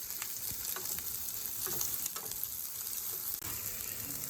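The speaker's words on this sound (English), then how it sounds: "Get them in there, start cooking them down a bit" Sliced peppers sizzle and fry steadily in a hot pan for a sauce, a continuous crackling hiss with occasional stirring scrapes and pops, close and fairly loud, no voices.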